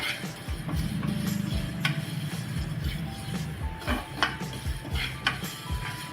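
Sesame seeds being dry-roasted in a pan for a sweet makhana recipe, with a steady sizzle and repeated light ticks and clinks of a spatula against the pan throughout.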